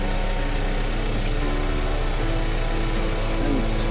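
VW Polo with a swapped-in engine idling smoothly and steadily, a constant close mid-range hum with no talk.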